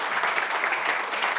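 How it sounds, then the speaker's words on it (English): An audience at a legislator education forum claps, producing a dense, steady burst of applause from many hands that fills the room loudly from start to end, with no voices over it. "No, you guys clap for Brian."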